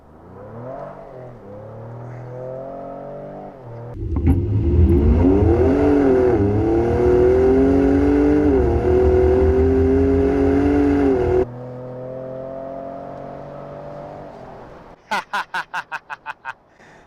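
2019 Ford F-150 Raptor 4x4 SuperCrew pickup launching hard from a standstill. The engine revs climb loudly and then surge into a sustained roar. The roar cuts off abruptly, leaving a quieter drone and a few sharp clicks at the end.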